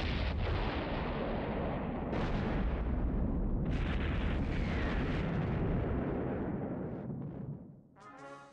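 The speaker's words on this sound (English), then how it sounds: "Launch missiles." Cartoon missiles launch and explode in a continuous roaring barrage of blasts and rumbling booms that stays loud for most of the clip, then fades out near the end.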